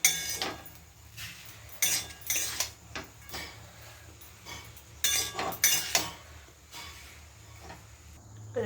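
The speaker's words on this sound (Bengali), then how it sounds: "চাউমিনের মশলাটা দিয়ে দেবো, ভালো করে নেড়ে নিই।" Chow mein with masala tossed in a pan, heard as intermittent metallic clinks and scrapes of a utensil against the pan, in irregular bursts over a quiet background.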